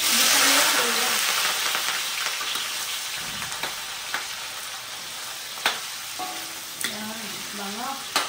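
Ginger frying in cooking oil in a pan, a continuous bright sizzle that fades gradually, with occasional stirring clatter and brief utensil scrapes and faint background voices.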